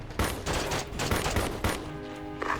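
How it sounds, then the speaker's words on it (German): Gunfire in the video game Ghost Recon Advanced Warfighter 2 plays as a dense run of rapid shots and bursts, loud and continuous throughout, with a brief different tone near the end. "Captain, stehe hier unter Feuer!"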